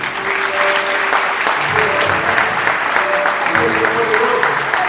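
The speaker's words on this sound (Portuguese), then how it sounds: "Será que você pode aplaudir o santo?" Church congregation applauding at an Easter musical service, a steady, dense wash of clapping from a large crowd that holds for the whole stretch, with faint voices and a little background music underneath.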